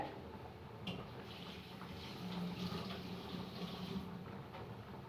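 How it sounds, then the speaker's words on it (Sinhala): A pot of water at a rolling boil for cooking madakoku, a faint, steady bubbling wash with a soft low rumble, close by and continuous, with no voices. "මේ දැන් උතුරනවා. හොඳට වතුර එක උතුරනකොට"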